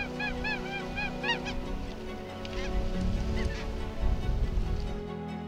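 Emperor geese honk and squawk in repeated loud, overlapping calls as they fly in and land on an Alaskan beach, with a rough, rising rumble of wind and movement underneath.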